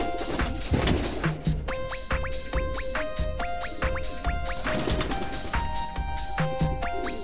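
Cooing from a gondok pouter pigeon crossbred with a Modena, soft throaty coos repeating near the mic over steady background chatter of other birds.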